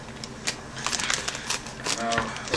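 Crinkly plastic rustling and tearing as Thomas & Friends blind bags are opened up close, quick irregular crackles with a voice talking alongside.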